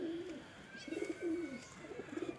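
Pigeons cooing on a rooftop beside two other pigeons, a faint, repeated rolling coo in soft phrases against quiet outdoor background.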